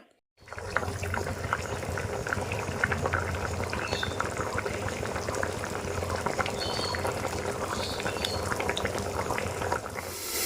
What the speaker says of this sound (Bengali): এই যে এখানে আমি এখন রান্না বসিয়ে দিচ্ছি আলু ঝিঙে দিয়ে চিংড়ি মাছের ঝোল